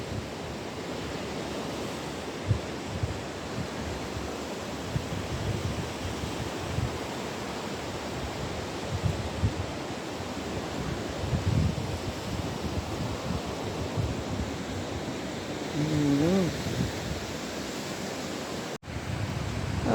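Surf of waves rolling in on the Gulf of Finland shore, a steady broad wash of breaking water filling the whole stretch, with a brief faint animal-like call partway through and a sharp knock near the end.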